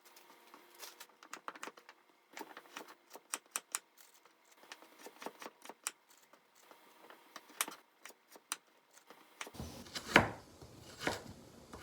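Knife slicing vegetables for kimchi in small pieces on a homestead, with a steady run of crisp, close chopping taps, then a louder rustle and crunch of handled leaves near the end.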